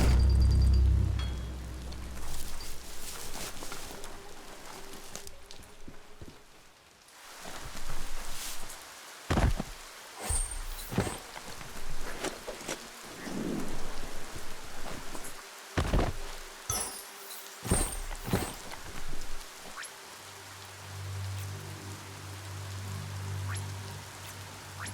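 Rain pattering in the video game Biomutant, a steady soft hiss of falling drops broken by sharp clicks and small impacts, with a low drone entering near the end.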